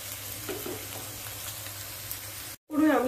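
Potatoes fry in a pan with a steady, close sizzle and crackle that barely changes, until a brief dropout and a short burst of voice at the end.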